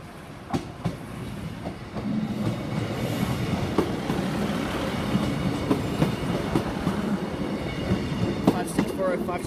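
Train 156405, a service to Peterborough, rumbles past Sleaford East level crossing in Lincolnshire. A loud, steady roll runs close by throughout, with rhythmic clickety-clack wheel beats over the rails.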